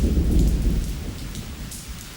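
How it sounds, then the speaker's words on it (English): A tropical thunderstorm in Singapore, with heavy rain pouring steadily and low thunder rumbling beneath it, loudest early on before easing slightly, no voices. "Sometimes you get a thunderstorm."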